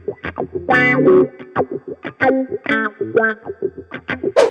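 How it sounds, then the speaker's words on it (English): Electric guitar played through a wah pedal, choppy phrases with a sweeping, vocal-like tone that opens and closes, loud and close with some effects coloring. "signature wah-wah sound in your guitar playing."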